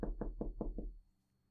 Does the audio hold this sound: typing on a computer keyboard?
no